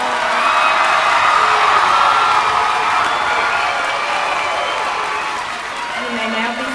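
A gymnasium crowd at a 2022 high school graduation applauds and cheers for the graduating students, with whoops and shouts riding over sustained clapping that slowly eases off toward the end.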